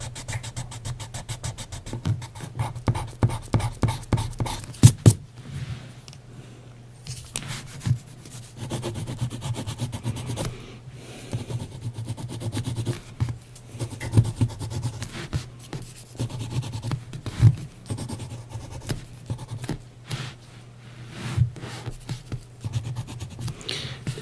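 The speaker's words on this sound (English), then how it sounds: "Here I have a white eraser." A white eraser rubs graphite pencil off paper in quick back-and-forth strokes, scratchy and close, coming in bursts with short pauses between them and no speech.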